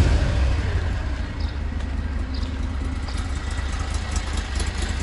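The engine of a Borus Extreme vehicle idles just after starting, giving a steady, rough, low rumble with a faint mechanical clatter and no talk.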